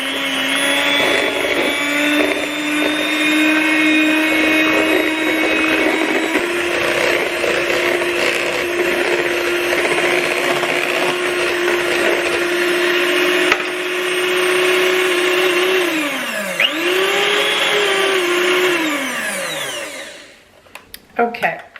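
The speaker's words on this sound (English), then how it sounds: "Now I'm going to take my mixer and mix this up." A handheld electric mixer whirs steadily for about twenty seconds while beating a fruit dip. Its pitch dips and rises a couple of times near the end, and then the motor cuts off with a few small knocks.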